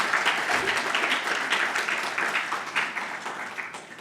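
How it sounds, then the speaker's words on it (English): An audience at a conference of women engineers and scientists in Kigali applauds presenters, with dense, steady clapping that fades slightly toward the end. "can you help me give a very, very big round of applause to the two presenters?"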